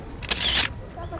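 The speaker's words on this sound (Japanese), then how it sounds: "本当に音ちっちゃいですね、シャッターを。" A quiet camera shutter gives a short, soft mechanical click with a brief airy burst, heard close at a shrine on a motorcycle touring trip around Lake Biwa in Shiga, with faint background noise.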